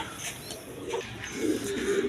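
Pigeons in a loft, sold in pairs with chicks, give soft low coos, a couple of brief calls near the end over faint background noise, with no talk.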